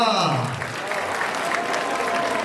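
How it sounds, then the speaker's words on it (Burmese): An audience applauds with steady, sustained clapping from a crowd, while a voice carries on over the start of it. "လက်ခုပ်တန်လေးနဲ့ကုန်ပြပေးပါဦးခင်ဗျာ"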